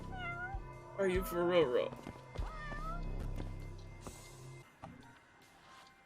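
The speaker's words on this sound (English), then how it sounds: "We found a different cat!" A cat meows repeatedly in the video game Judgment, several clear rising cries close up near the start, with people talking and reacting over and around them.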